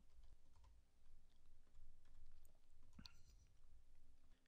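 Quiet typing on a computer keyboard while entering product attribute details into an online store setup, soft clustered key taps close by with a low hum underneath.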